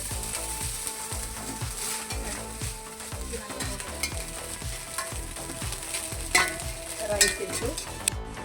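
Rice for prawn biryani fries in ghee with a continuous sizzle, layered with a regular, clicking mechanical rhythm and a few louder scrapes near the end.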